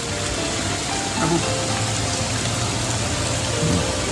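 Steady rain falls on a wet morning in Tabakoshi village near Mirik, a continuous broadband hiss of drops on surfaces at even loudness throughout, with faint low background sounds and no clear talk.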